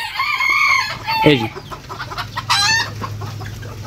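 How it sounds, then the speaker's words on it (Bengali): Small ornamental Bangladeshi hobby chickens and roosters cluck close by, with a crow ringing out over the flock as someone says a brief word. "দেখেন কত সুন্দর মুরগিগুলা"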